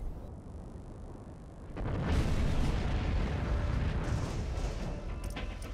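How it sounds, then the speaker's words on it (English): A tank shelling a house in the World War II shooter Heroes and Generals: quiet at first, then a heavy blast erupts and leaves a long rumbling roll of explosions and debris, with no talk. "there is a tank shooting the house"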